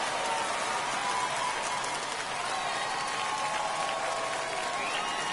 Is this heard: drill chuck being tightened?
no